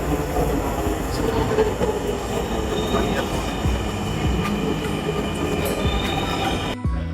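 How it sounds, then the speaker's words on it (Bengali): A metro train pulls into a station at Agargaon, Dhaka, with a steady loud rumble, rail clatter and faint wheel squeal that continue for about seven seconds before cutting off abruptly. "ট্রেনের জন্য ওয়েট করছি।"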